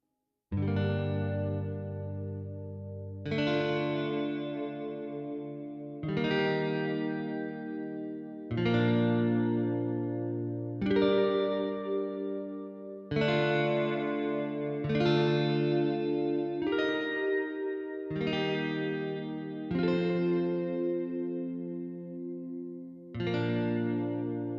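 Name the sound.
shimmery guitar chords from Velvet Guitars sample library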